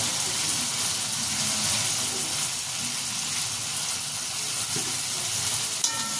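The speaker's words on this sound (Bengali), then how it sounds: "টমেটোগুলো একটু কষিয়ে নেব" Spice paste and chopped tomatoes sautéing in a pan for a rui fish curry with eggplant, a steady loud sizzle with occasional soft stirring scrapes throughout, no talking.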